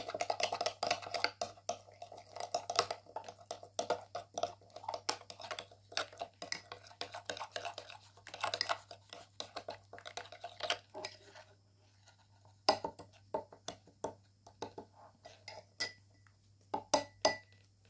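Hair serum ingredients and coconut oil stirred in a bowl, giving soft, irregular clicks and light scraping taps of a spoon against the dish, close up and quiet over a low steady hum, pausing briefly before resuming.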